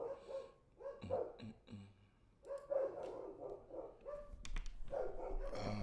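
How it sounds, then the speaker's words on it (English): Dogs bark repeatedly in a home, sharp yapping bursts coming in uneven clusters, some close and loud, with short whimpering yips between them. "Sorry for the dogs."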